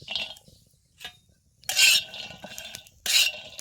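Peanuts and garlic dry-roast in a pan over a wood-fired stove. Four separate bursts of bright rattling and scraping stir the pan, with quiet gaps between them and no voices.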